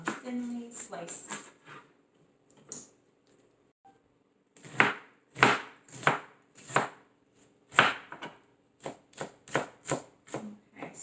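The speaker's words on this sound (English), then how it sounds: "we are going to chop up one onion into thinly sliced." An onion being cut into thin slices with a knife for Pakistani pilau, a series of sharp, close knife strikes on a board, quick bursts at first, then a pause, then steady, evenly spaced chops.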